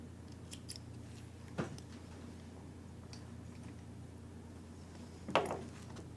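Scissors snip thread during sewing of a skirt, two short crisp cuts seconds apart against a quiet room background.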